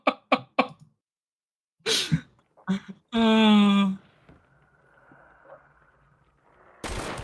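Gunfire in the video game Hunt: Showdown: a quick burst of three sharp shots, then two more separate bangs and a final loud blast, mixed with game effects and a sustained tonal sound.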